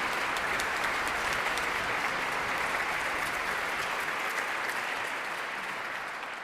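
Sustained applause fills an opera house auditorium, dense and steady, with clapping from a large audience holding at full strength and easing only slightly at the end.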